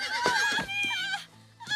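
A horse neighs in an animated cartoon, a loud, close whinny with wavering high tones that breaks off briefly and then resumes at the end.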